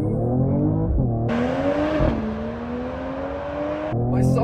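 A Mercedes-AMG E53 launches hard from standstill toward 100 km/h, its engine note loud and close, climbing steadily with a brief dip at a gear change before pulling again to the end.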